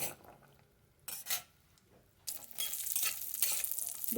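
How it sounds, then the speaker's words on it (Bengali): Cashews sizzle in a hot pan with brief bursts of stirring, then a steady loud frying hiss takes over. No voices. "কাজু খুব জলদি ভাজা হয়ে যায়"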